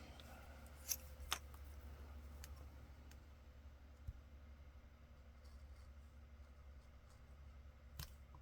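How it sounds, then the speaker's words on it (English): Scissors cutting a small window out of brown paper for a collage tag, a few faint, sharp snips scattered over a quiet background hum. "I'm going to cut that little window out."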